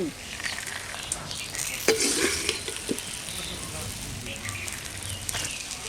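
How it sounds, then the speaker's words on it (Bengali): Shrimp frying in a pan for a village-style recipe gives a steady, faint crackling sizzle with occasional stirring clatters, continuous and close throughout. "কত ভালো মুসমুসে আমি ভাজছি"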